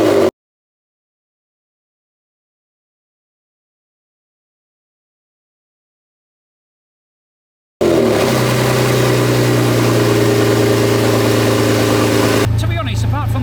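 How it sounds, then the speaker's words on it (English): A Porsche 996 engine cranks and catches after a long silence, then settles into a steady, loud idle to warm up in a garage, with a brief change in tone near the end. "So let's fire up and let it warm up."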